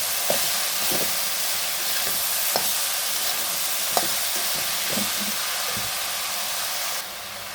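Water spinach cooks in a pan under a loud, constant sizzle, with scattered soft knocks and scrapes as it is stirred and mixed. The sizzle drops abruptly near the end, and no one speaks.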